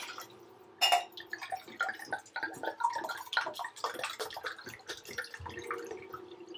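Water is poured from glasses into rice being readied for potato dum biryani, giving a close run of splashy trickles and drips with no talk.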